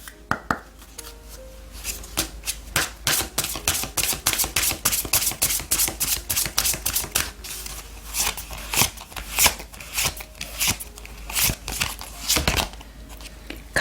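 Oracle cards being shuffled for a tarot reading, a quick run of crisp, dense riffling taps that keeps going steadily and fairly close, with no voices over it.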